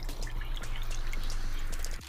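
A cup of warm water is poured into a vegan dough mixture with olive oil, making a steady, close splashing trickle that stops abruptly at the end.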